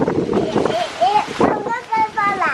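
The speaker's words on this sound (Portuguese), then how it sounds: "Vento!" Wind buffets an outdoor microphone at a country smallholding in the morning, gusty rumbling bursts that come and go under a woman's close conversational speech.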